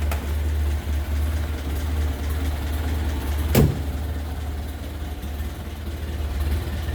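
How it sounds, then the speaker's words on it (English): A 1928 Ford Model A roadster pickup with its 201 inline four-cylinder engine idles steadily and close, a low throbbing rumble that holds throughout, broken once by a brief sharp knock midway. "Sounds just like you'd expect an A to sound. 201 inline four-cylinder."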